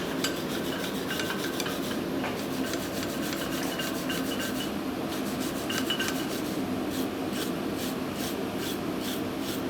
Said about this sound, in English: give it a nice wire brush.